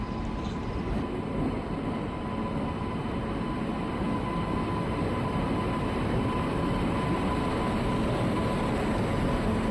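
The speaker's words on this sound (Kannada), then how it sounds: "ನಮ್ಮ ಟ್ರೈನ್ ಬರ್ತಿದೆ ಆಲ್ರೆಡಿ" Karnataka Express arriving at Mantralaya Road railway station before dawn, a continuous loud, even rumble of the train rolling in with a faint steady tone on top, no voices.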